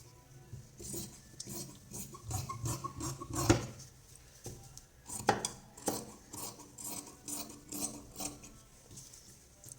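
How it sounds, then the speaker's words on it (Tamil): Scissors snipping through blouse fabric during cross-cut tailoring, giving a run of crisp, rhythmic cutting and rustling strokes with a couple of sharper clicks, close and moderately loud, with no talking. "இந்த ப்ளவுஸை நம்ம கட் பண்ணி எடுத்துருவோம் கையை."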